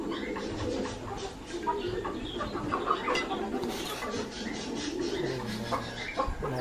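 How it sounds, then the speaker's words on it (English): Backyard flock of turkeys, peafowl, asil and bantam chickens feeding in the morning, with continuous overlapping coos, clucks and calls at moderate distance forming a busy, steady bird chorus. "Turkey, peafowls, chicken, some asil chicken and bantam chicken."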